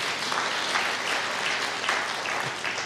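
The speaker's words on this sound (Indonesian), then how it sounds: "Berikan tepuk tangan ya mereka." Church congregation applauding during a sermon, a steady dense clapping that fills the space evenly from start to finish at moderate loudness, with no voice over it.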